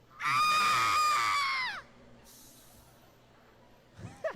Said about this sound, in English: let's have the yell. Let's see the yell. Can you do the yell?